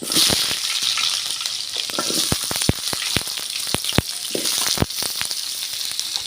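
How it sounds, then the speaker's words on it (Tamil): Mustard seeds, fenugreek and onion sizzling in hot oil for a Tamil kara kuzhambu, a steady close crackle broken by sharp pops and clicks of stirring scattered throughout. "எண்ணெய் சூடாயிட்டு கடுகு சேர்த்துக்கிறேன்"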